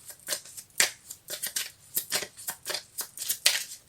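Tarot cards being cut and shuffled by hand, a rapid series of crisp riffling and slapping bursts in an uneven rhythm, close and fairly quiet with no talking.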